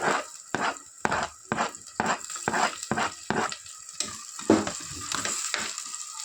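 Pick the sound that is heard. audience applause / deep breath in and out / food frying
food frying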